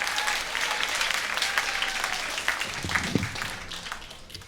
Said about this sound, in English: Let's give those student speakers one more round of applause.